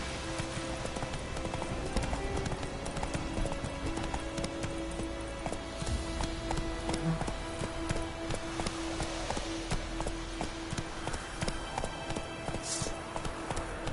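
Roach the horse gallops in The Witcher 3, rapid rhythmic hoofbeats running steadily under quiet in-game ambience and soft background music, fairly close and moderate in level.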